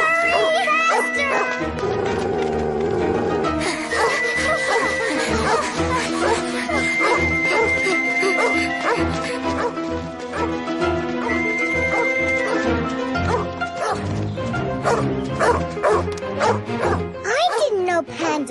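A cartoon wild dog barks and yips repeatedly and loudly against background music, with children's voices calling out in alarm over the barking.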